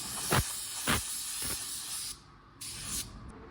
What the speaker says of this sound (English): we want to shoot the gun sideways up here